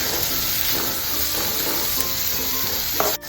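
Finely chopped onions, two medium ones, sautéing in a pan for garlic chicken: a dense, steady sizzle close up and continuous, with a faint clink of a spoon near the end and no talking.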